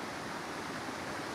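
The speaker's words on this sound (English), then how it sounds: "uodome is waterfall where iguana cannot go over, swim over" A steady broadband rush of water from a small waterfall on a mountain stream, a constant close roar with no breaks or voices.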